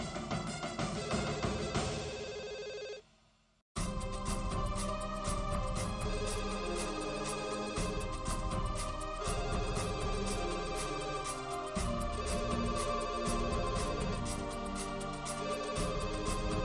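A telephone rings in a Hindi TV serial scene. The ringing runs steadily under dense background music, cuts out briefly near the start and then resumes without a break.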